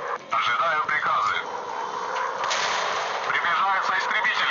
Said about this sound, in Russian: Стреляю ракетами.